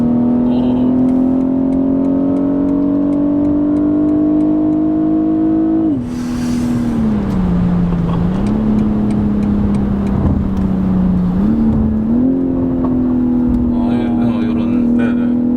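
A BMW 840i xDrive Gran Coupe's 3.0-litre petrol engine revs in rising, steady tones, dipping and climbing again as the throttle changes, loud and close.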